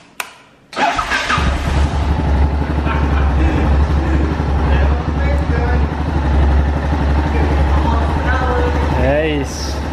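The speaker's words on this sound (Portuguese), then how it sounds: "o barulho não mudou, porque o escapamento só mandou polir." Yamaha XT660 single-cylinder motorcycle with a polished stock exhaust starting up, then settling into a steady, loud, close idle with a deep thumping pulse and slight throttle blips near the end.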